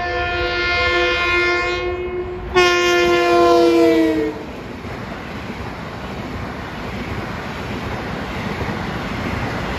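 A Long Island Rail Road Central Branch train at South Oyster Bay Road near Hicksville gives a loud, sustained multi-chime horn blast that breaks briefly, sounds again, then fades into the low rumble of the train passing.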